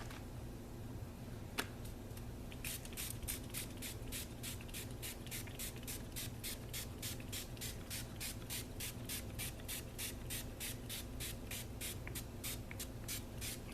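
Tattered Angels glitter mist in a light blue with gold is sprayed in a long run of quick, even pumps, close and crisp, over a steady low background hum.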